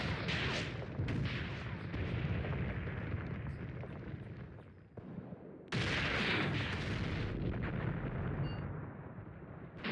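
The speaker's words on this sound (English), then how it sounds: "the artillery is coming down" Artillery shells rain down in the tank game Tank Warfare: Tunisia 1943, a dense, continuous roar of booming impacts and rumbling blasts that briefly dips before another loud barrage surges back.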